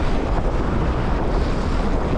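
Steady, loud wind buffeting a microphone while moving through traffic, a continuous low rumbling roar with no pauses and no voices.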